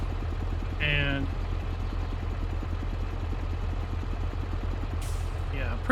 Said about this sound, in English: I'm pretty sure all of these engine sounds are the same